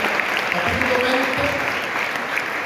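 A church congregation applauds during a sermon at a convention center, a continuous, diffuse wash of clapping with faint voices calling out underneath.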